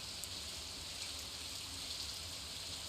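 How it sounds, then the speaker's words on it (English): Steady, soft rain hisses evenly over a low background hum in the Stardew Valley video game, unbroken and even throughout. "And then it is raining"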